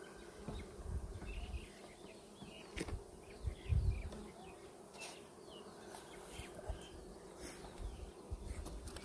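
Honeybees buzz around a hive feeder, a faint continuous insect drone with a few louder passes close by and occasional soft knocks, heard outdoors without talk.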